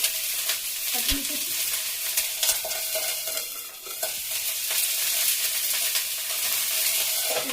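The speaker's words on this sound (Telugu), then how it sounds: "ఇప్పుడు పచ్చిమిర్చి ఫ్రై చేసుకున్నాం" Green chilies fry in hot oil in a pan, giving a continuous bright sizzle with occasional scrapes of stirring and a soft knock, steady and close with no talking.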